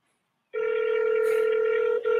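A phone line rings out on an outgoing call, placed live on air to a former Oakland mayor: a steady electronic ringback tone starts after a half-second of silence, loud and clear, with a brief dip near the end.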